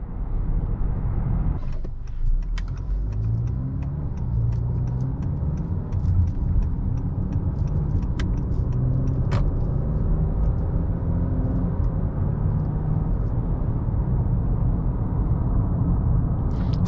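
A 2020 Honda Accord EX-L with the turbocharged 2.0T engine, heard from inside while driving: a steady low engine and road rumble that rises and falls gently through smooth upshifts, continuous and fairly loud, with no talking.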